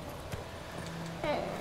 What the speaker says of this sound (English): Sir, get your horse out of my way.